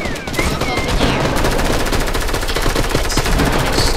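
Gunfire in the video game Operation: Knockout: loud, dense rapid automatic bursts that run almost without a break for four seconds.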